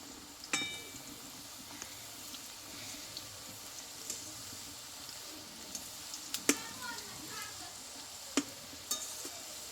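Flour-dough sweets frying in hot oil, a soft steady sizzle and bubbling broken by occasional light clinks of a utensil, fairly quiet and close.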